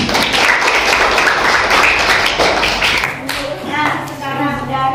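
Students in a classroom clap together in a short burst of applause, loud and close, fading as voices start talking over it.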